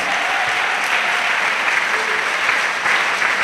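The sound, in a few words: church congregation clapping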